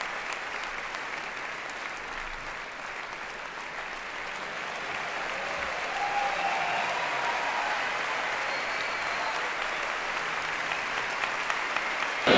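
Long sustained applause from a theatre audience after a performance of the opera La Traviata, a dense continuous wash of many hands clapping that swells slightly midway and carries on without a break, heard at some distance.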